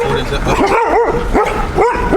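Several dogs on a roadside in Talladega, Alabama, yip and bark in quick bursts nearby, five or six sharp barks in two seconds under loud outdoor noise, with a person talking at the same time.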